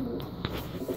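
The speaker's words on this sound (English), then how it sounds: "He just looks like a little shadow bird" A pet bird coos softly near the listener, a dark, fuzzy little bird making a low murmuring call over a steady background hum.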